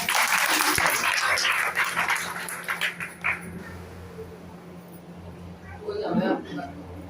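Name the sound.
audience applause at Ram katha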